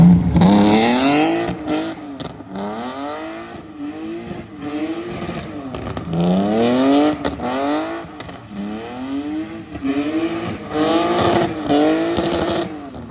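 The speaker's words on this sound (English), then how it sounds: "So Maxx tried sliding the car last night, as you guys just seen" A BMW E46 with an open differential slides, its engine revving hard in repeated rising and falling surges while the tires squeal, loud and close throughout.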